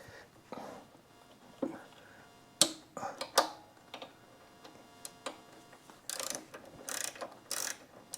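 A 1/2 inch ratchet wrench turns a bolt on motorcycle mid controls, giving scattered short clicking and ratcheting bursts, some sharp and close, with quiet pauses in between and no talk.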